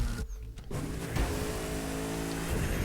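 Car engine in the racing video game The Crew 2, a steady droning motor that picks up and revs on after a brief drop near the start, loud and continuous with no talking.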